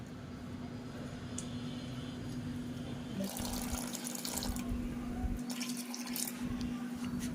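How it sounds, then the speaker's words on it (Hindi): Water poured from a tap or vessel into potted plants, including money plants, in a home gallery, heard as a steady splashing trickle that grows louder and broader partway through, with no talking. "हमारे गैलरी में पौधे रखे हैं, तो इनमें पानी डाल देती हूँ।"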